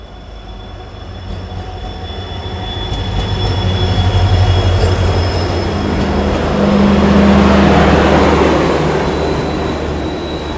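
The KR Rocket, a twelve-coach superfast express train, passes close by, its broad rolling roar and rattling wheels building steadily to a loud peak near the end, with no talk over it.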